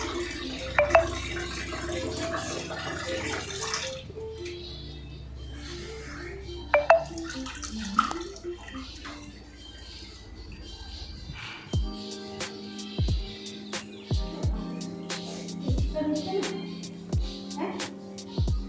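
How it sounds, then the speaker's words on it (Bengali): Catla fish being washed by hand in a bowl of water, with sloshing, dripping and splashing, then sharper knocks and clinks from around the middle onward, close up with no talking. "কাতলা মাছটাকে ভালো করে ধুবেন। দেখেছেন আমি যেরকম ধুচ্ছি"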